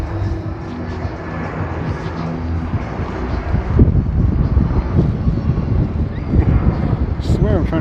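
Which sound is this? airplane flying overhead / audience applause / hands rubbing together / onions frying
airplane flying overhead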